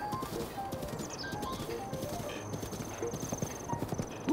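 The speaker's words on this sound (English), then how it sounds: "Let's go, giant horse." A giant horse in a video game trots at a brisk pace, its hooves making a steady clip-clop under a busy game soundtrack with chimes and tones, and a short snort near the end.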